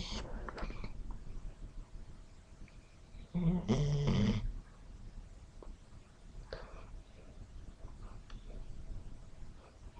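A female dog snores in short, low bursts, with one louder snore standing out midway and fainter breaths around it against a quiet indoor background.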